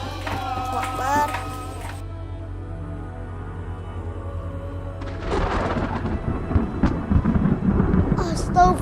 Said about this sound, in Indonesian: Sepertinya mau hujan deras. Ya Allah, Allahu Akbar. Ini kenceng banget lagi. Banyak banget petir-petirnya.